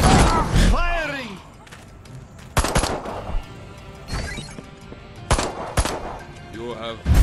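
Gunfire in the video game Destroy All Humans! 2: Reprobed, with several loud bursts of rapid shots and sci-fi weapon effects. They are interspersed with quieter passages and game voices.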